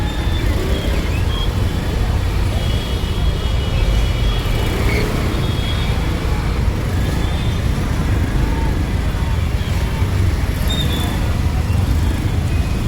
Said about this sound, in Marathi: बघा ट्रॅफिक बघा, आता फसलो परत.